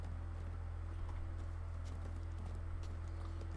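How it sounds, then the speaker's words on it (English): Horse hooves clip-clopping steadily while riding in a video game, a quiet, even trotting rhythm over a constant low hum, with no talk. "Just ride my horse into the nowhere"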